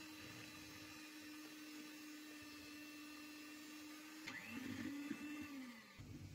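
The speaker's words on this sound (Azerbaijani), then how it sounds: "Yumurtamızı və şəkər tozumuzu mikserlə çalırıq." Electric hand mixer whirring steadily as it beats eggs with sugar for a cocoa cake batter, a continuous close motor hum that rises in pitch and strains near the end before cutting off.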